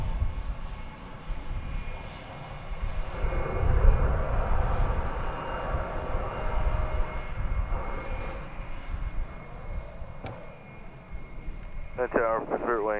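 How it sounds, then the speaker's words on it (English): An Embraer E190 jet airliner arriving at DFW Airport from Mexico City: a broad, rumbling engine roar that swells and fades over open-air wind noise, with voices in the background. "it's an Embraer E190 coming in from Mexico City"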